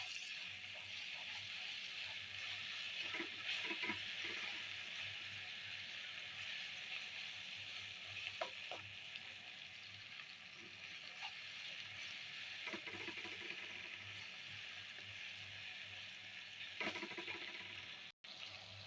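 Quiet scraping and stirring of spices and garlic-ginger paste in a pan, with a faint, steady sizzle underneath and occasional soft clinks of the spoon against the pan.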